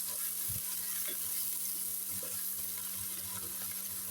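Finely chopped onion sizzling in hot oil for a macaroni dish, a constant dense hiss of frying with small stirring knocks, no voices.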